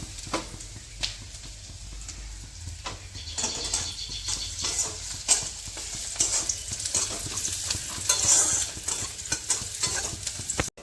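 Onions frying for an egg curry, stirred with a spatula that scrapes and knocks against the pan in irregular bursts over a steady, close sizzle that swells toward the end, with no voices.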